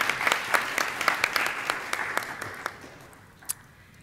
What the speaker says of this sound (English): So let's give them a round of applause and thank them